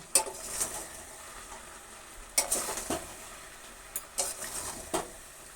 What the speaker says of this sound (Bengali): এবার গ্যাসের ফ্লেমটা জোর দিয়ে একটু নেড়ে দেব।